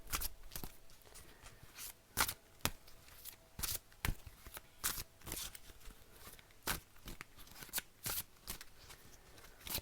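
Large Wild Amanda oracle cards are shuffled by hand in a dense run of crisp riffles and slaps, repeating irregularly and close up for about ten seconds.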